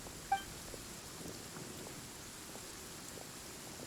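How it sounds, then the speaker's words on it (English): Steady rain falls in the Genshin Impact game world, a soft continuous hiss with one brief sharp blip near the start and no voices. "Oh, it's raining this year."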